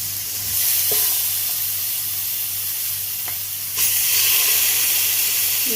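Chicken pieces fry in oil over medium heat, giving a steady, close, loud sizzle and hiss that swells briefly near the end, with no talking.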